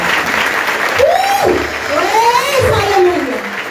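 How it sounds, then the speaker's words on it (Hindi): Congregation applause at a worship meeting, steady clapping under a loud voice speaking over it, with a faint crowd murmur. "आइए जोरदार तालियां खुदा की जय।"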